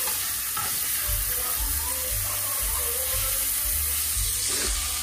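Hotdogs fry in a pan as they release a little oil, giving a steady close sizzle throughout with soft stirring and scraping noises and no talking.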